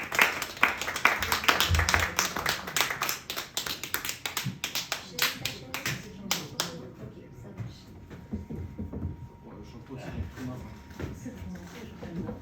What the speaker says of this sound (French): je vous demande d'applaudir bien fort, s'il vous plaît